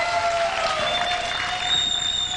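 An audience at a live comedy show applauds in a dense, steady wash of clapping that holds evenly throughout, with a faint tonal hum running underneath.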